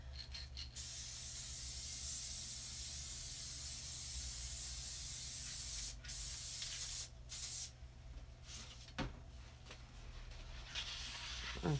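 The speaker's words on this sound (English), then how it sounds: "I'm going to spray this with some spray adhesive real quick" A long continuous hiss of spray adhesive from an aerosol can, broken by a few short gaps and bursts near the end, close and fairly quiet.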